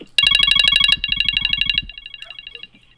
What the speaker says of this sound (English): That's my alarm to go pick up Angie.